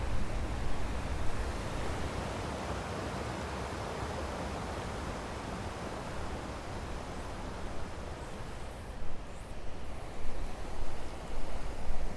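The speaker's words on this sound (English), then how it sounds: "If you like river sounds" Steady broadband rushing of flowing water, continuous and fairly loud, with no voices over it.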